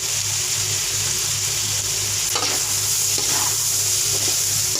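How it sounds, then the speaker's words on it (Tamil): Vegetables and rice are stirred together in a hot pan for paneer fried rice, giving a continuous sizzle with occasional scraping strokes of the spoon, close and fairly loud. "மிக்ஸ் பண்ணிக்கணும் நம்ம வெஜிடபிள்ஸையும் ரைஸையும்."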